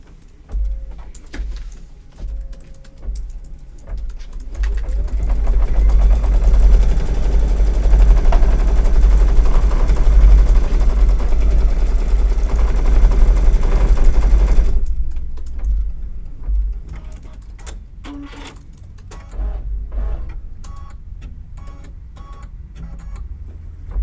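An embroidery machine stitching a spring garden flag design runs in a loud, fast, buzzing rattle for about ten seconds, then stops, leaving quieter scattered clicks.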